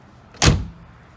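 A 1985 Saab 900S door slams shut once with a sharp, metallic thud close up, a single loud hit that fades quickly.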